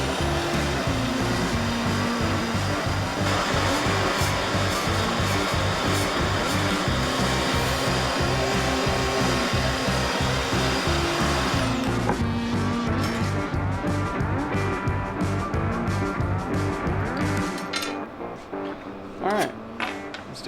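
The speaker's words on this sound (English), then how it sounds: "cut those things on a bandsaw real quick." A bandsaw runs close and loud with a steady motor roar while cutting parts for a rifle cheek riser, then winds down and fades out over the last few seconds.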